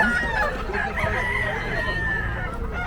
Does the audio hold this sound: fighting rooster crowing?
yes